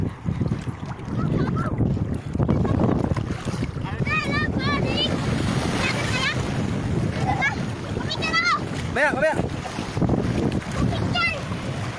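Strong ocean waves surge and crash at a La Union beach amid heavy wind buffeting the microphone, with people talking and shouting over the rough water.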